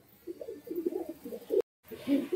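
Pet pigeons cooing close by in a loft of Madras and Giribaz flying pigeons, soft repeated low coos in short bursts, with a brief silent gap near the end.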